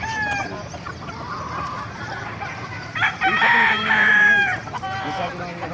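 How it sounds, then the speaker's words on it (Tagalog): A rooster crows loudly and close by at a chicken market in Bocaue, Bulacan, with chickens clucking and cackling around it, some other birds faintly in the background. "Ang ganda ng mga manok oh."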